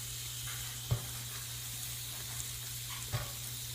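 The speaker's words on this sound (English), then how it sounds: "While it's cooking, throw my pork on." Pork chops and asparagus cook on a Velata raclette grill, giving off a soft, steady sizzling hiss with a low hum beneath and a couple of faint clicks.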